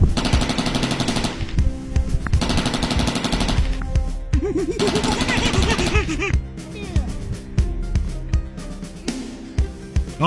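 Rapid bursts of gunfire aimed at a gorilla in a children's action play, loud and repeated across the whole stretch, mixed with music and voices talking over it.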